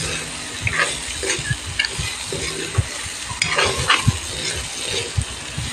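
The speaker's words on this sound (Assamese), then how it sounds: "অলপ টাইম ভাজিম লাহে লাহে এনেকৈ।" Potatoes fried slowly in a pan for a mild fish dish, with soft crackling sizzle and repeated scraping stirs up close, no voices over it.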